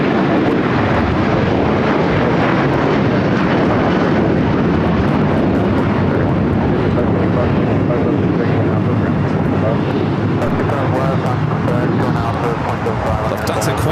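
A jet airliner taking off from runway 25 right at Los Angeles International Airport, a loud sustained engine roar building and holding throughout, with a voice talking over it.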